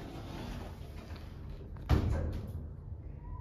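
A soft sliding rumble ends in a muffled thud as traction lift doors close, followed by a quiet hum and a faint electronic tone.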